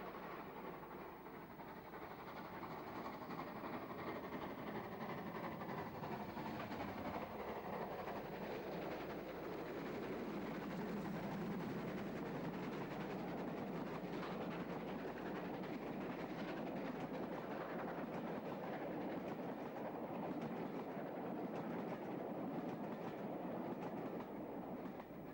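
A steam train rumbles and clatters steadily as it departs Banbury northwards, with rhythmic wheel clicks over the rails, sustained throughout with no talking.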